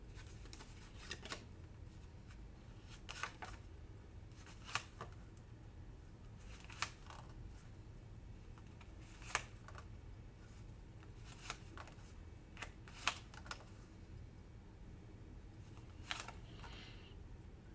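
Tarot cards being handled and shuffled during a card reading, heard as quiet, close papery flicks and soft taps scattered through a hushed background. No one speaks.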